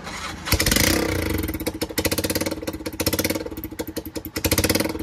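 An auto rickshaw engine in Mumbai, being adjusted after a sudden fault, runs steadily with a rapid, rhythmic chugging pulse, loud and close, with no talk over it.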